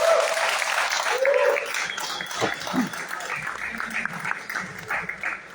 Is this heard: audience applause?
yes